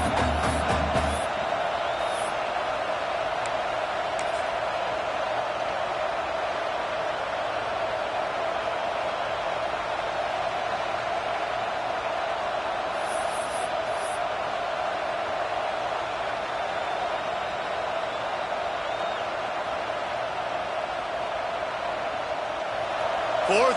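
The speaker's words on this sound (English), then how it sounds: "Fourth down, and this crowd trying to help this defense rise to the occasion." A steady, dense stadium crowd roar builds on a fourth-down play in the college football video game NCAA 26, sustained without break beneath a commentator's voice.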